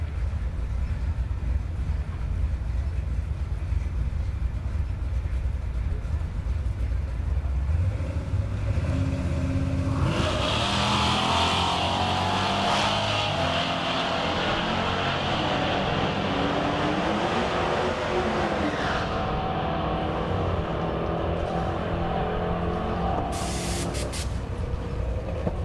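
A Chevrolet C10 pickup and an SRT Jeep drag racing at a Kansas dragstrip, a low idling rumble swelling into a loud, roaring launch midway that gradually eases off, with faint crowd noise.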